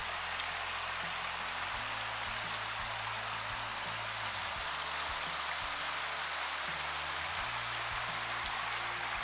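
Water rushing at Naguni Waterfall near Kharota, Dharamshala, in winter: a loud, steady broadband roar of falling and flowing water with no break, plus some low rumbles underneath.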